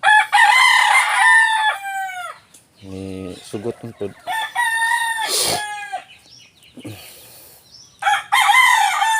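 Two loud, close crows from a native Filipino rooster, one at the start and one at the end, with clucking and brief mumbled speech in between.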